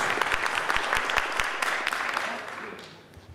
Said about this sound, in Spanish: Les pido un fuerte aplauso, por favor